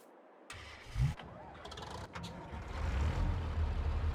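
A tractor engine in Farming Simulator 22 cranks briefly, then catches and settles into a steady, low idle rumble that grows slightly louder, heard close with no voices.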